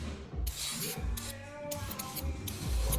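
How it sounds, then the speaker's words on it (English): Several quick hissing spray-bottle bursts come in short pulses during a Toyota Camry oil change, close and fairly quiet, with brief pauses between them. "Final spray down."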